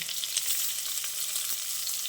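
Potatoes and onions fry with five-spice in mustard oil, giving a steady, close hiss that sizzles for the full stretch, with a few faint stirring taps and no voices.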